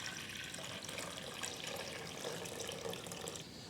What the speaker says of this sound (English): I'm going to add just enough water to cover the tubers